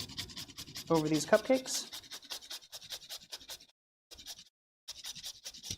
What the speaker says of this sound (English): Using a little microplane grater.